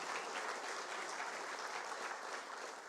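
Soft, distant audience applause welcoming a speaker at a legal debate event, a continuous wash of many hands clapping at an even, faint level throughout.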